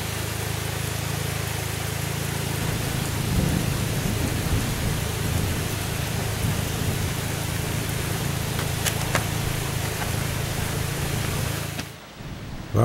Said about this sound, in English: the storm's picking up